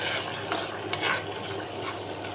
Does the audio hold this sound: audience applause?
no